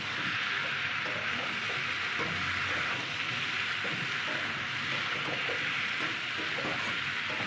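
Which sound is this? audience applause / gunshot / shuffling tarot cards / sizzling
sizzling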